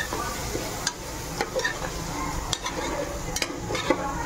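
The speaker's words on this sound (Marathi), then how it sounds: "मी 1 वाटी दही आणि याला तर छान मिक्स करून घेते परत" Yogurt being stirred into masala in a pan for egg biryani, a steady scraping and sizzling with a few sharp spoon knocks against the pot, no talk.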